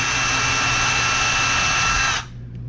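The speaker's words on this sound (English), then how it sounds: "I'm gonna drill these holes out here" A power drill whines loudly and steadily for about two seconds, then cuts off abruptly, leaving faint room noise.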